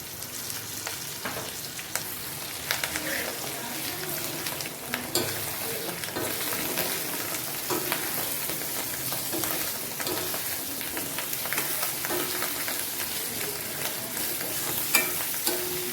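Fish roe fries with a paste of ginger and ground cumin, crackling and sizzling loudly and steadily while being stirred, with small pops and scrapes throughout.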